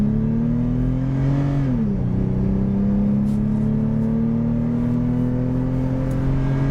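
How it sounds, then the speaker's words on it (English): A 2024 Toyota 4Runner TRD Pro makes a 0 to 60 mph launch. The engine drones loudly from inside the cabin, pitch dipping at a gear shift, then climbing steadily and evenly, with no talk. "Let's do a quick 0 to 60, see how long it takes to get all the way up there."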